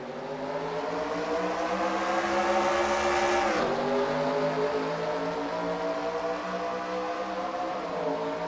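Race car engines in a NASCAR Busch Series racing sim video game: loud, continuous high-revving engine drone with a pitch shift midway as a car passes or shifts, no talk.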